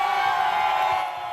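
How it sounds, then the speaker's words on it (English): A crowd gathered for a new full-service grocery store opening in Avondale cheers and whoops in a sustained, loud roar. "This crowd is not waiting for a celebrity"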